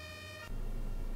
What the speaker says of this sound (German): Oh, kommt dann Rettungsdienst von hinten?